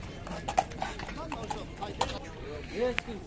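Horse hooves clip-clop in an irregular walking rhythm at a horse market in Bishkek, each hoof strike sharp and fairly close, with voices murmuring faintly in the background.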